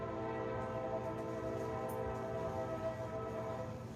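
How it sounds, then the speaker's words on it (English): A train rumbles past at a distance over a railway crossing, a low steady drone with tonal ringing layered on top, sustained and fairly faint throughout. "You hear the train heavy on the crossroad."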